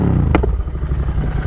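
A motorcycle fitted with a Code6 Red Rooster exhaust, ridden through a city at night, gives a close, low engine rumble broken by one sharp pop near the start.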